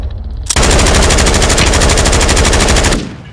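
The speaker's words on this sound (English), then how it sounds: "I'm getting shot from the bridge, I think." Loud, rapid automatic gunfire in a video game, one unbroken burst lasting under three seconds after a short lead-in, close and dominant.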